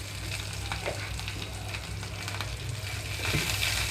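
Green chillies fry in a pan as coriander is added, a steady close sizzle with scattered stirring clicks that grows slightly louder toward the end, no one talking.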